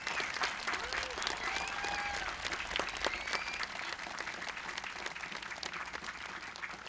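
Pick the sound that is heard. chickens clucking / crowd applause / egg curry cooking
crowd applause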